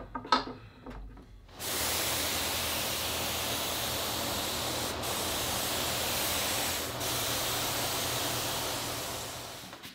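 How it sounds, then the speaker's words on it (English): A steady, loud hiss of a Fuji HVLP paint sprayer applying Benjamin Moore Command paint to a frame runs continuously after a few short bursts, close up and unbroken. "Now I'm going to flip the frame over and spray the front."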